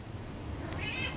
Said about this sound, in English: I'm not petting you until you meow at me.